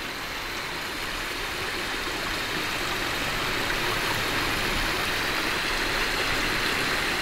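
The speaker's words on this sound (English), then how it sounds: "first little waterfall." A small waterfall on Bay Creek in the Shawnee National Forest pours in a loud, constant rushing roar that holds steady from start to finish.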